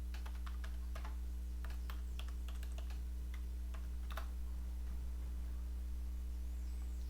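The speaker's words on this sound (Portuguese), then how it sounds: "Vou digitar aqui então as informações." Quick, irregular keystrokes on a computer keyboard enter WordPress login details in short bursts, close and fairly quiet over a steady mains hum, with no voices.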